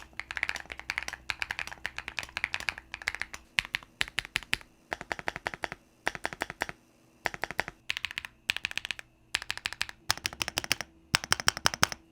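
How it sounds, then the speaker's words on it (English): Typing on a Kiboom Moonshadow V2 mechanical keyboard fitted with matcha latte switches, close and clear, coming in quick bursts of deep clacking keystrokes with short pauses between runs. "So these matcha latte switches still deliver that satisfying thock, however it's slightly more audible if you really pay attention."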